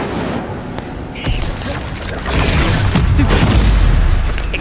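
An Incendio fire spell is cast in Hogwarts Legacy, a booming magical blast that swells into a sustained, roaring rumble. It is loud and close, with a voice briefly in the mix.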